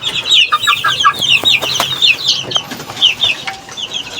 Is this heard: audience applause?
no